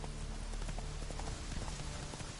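Roach the horse trots in The Witcher 3, an even run of fairly soft hoof clops over a constant low background of game sound.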